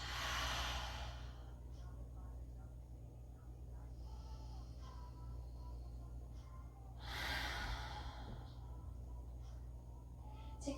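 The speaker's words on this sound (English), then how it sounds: "Take 2 more deep breaths, filling the torso and sighing to release." Slow, deep breaths drawn in through the nose and released as audible sighs during a yoga flow, two broad exhales about six seconds apart over a low steady hum, close and soft.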